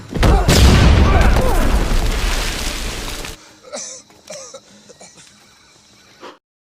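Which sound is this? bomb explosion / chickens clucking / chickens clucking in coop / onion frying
bomb explosion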